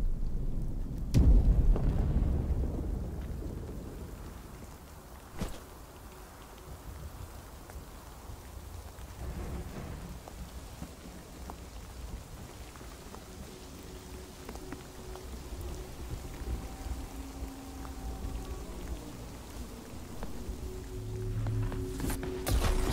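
Steady rain patters throughout a stormy video game scene, with a sharp lightning crack near the start and low rumbles later, continuous and fairly close.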